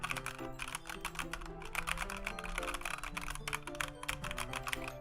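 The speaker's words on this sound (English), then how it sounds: "This is what my keyboard sounds like." Rapid, clacky keystrokes on a computer keyboard come in a continuous flurry, close and crisp, over a soft background of music.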